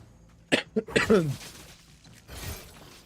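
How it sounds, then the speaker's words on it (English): A person coughs and sneezes in a quick cluster of sharp bursts, followed by a softer breathy sound, close up with no talking. "I can't stop like coughing and sneezing and all that crap too"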